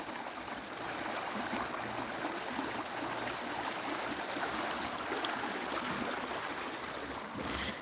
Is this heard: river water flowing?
yes